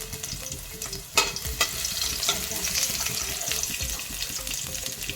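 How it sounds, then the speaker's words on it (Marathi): Three or four crushed garlic cloves land in hot ghee and fry with a soft, steady sizzle, a couple of sharper crackles near the start, faint and close. "आपण त्याच्यामध्ये ठेचून घेतलेल्या तीन ते चार लसूण पाकळ्या घालणार आहोत"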